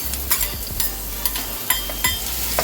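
Ginger, green chili and garlic sauté in olive oil in a pan for an Indian-style masala macaroni, giving a steady close sizzle with scattered scrapes and clicks of a stirring utensil and no talking.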